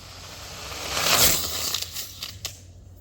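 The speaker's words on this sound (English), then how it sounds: "So we did just cartwheel down the road." A Tamiya TG10 Mk1 RC car with a Castle Creations Mamba motor cartwheels down the road, a rising scraping crash peaking after a second, then a few sharp clatters and ticks as it tumbles to rest.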